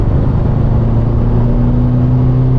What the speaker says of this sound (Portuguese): Ó o somzão do escape, que maravilhoso.